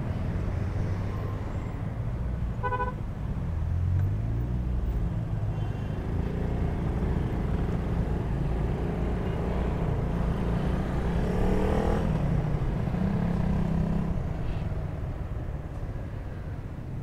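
Heavy, congested road traffic on Alabang Zapote Road, recorded from a Honda Wave RSX motorcycle: a steady, loud wash of engines and tyre noise carries on throughout, with vehicles rumbling close by and no talking.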